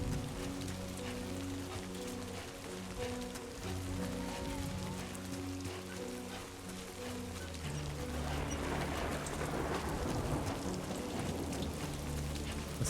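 Steady rain with distant rolling thunder in the game Death Stranding 2, a continuous dense hiss with a low rumble swelling partway through, alone without talk.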